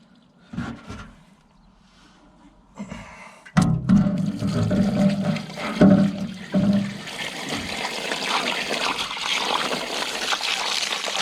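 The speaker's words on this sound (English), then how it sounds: "Tip all this water out." Water is tipped out of an antique Kelly Duplex grain mill, a few knocks giving way to a sustained close gush and splash that keeps trickling and rushing steadily, with no talk.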